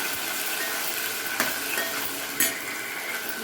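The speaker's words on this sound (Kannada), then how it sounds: "ನೋಡಿ ಇವಾಗ ಕರಿಬೇವು ಈರುಳ್ಳಿ ಹಾಕ್ತೀನಿ ಒಗ್ಗರಣೆಗೆ" Curry leaves and onion sizzle steadily in hot tempering oil for Kannada-style avarekalu sambar, a broad constant hiss with two brief stirring scrapes and spits, close and alone.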